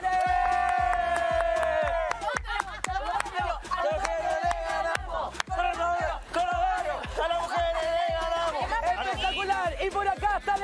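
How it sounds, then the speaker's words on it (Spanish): Studio audience at a Tierra Brava team competition claps steadily in quick rhythm for the women's team, with loud whoops and chanting voices riding over the clapping throughout. "¡Un aplauso para el equipo de las mujeres!"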